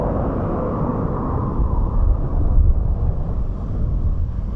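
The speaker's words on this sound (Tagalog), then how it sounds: "Grabe ang lakas ng hangin tapos alikabok na oh." Strong sandstorm wind in Kuwait blasts across the microphone in a steady, heavy roar with gusty surges, loud and continuous with no voices.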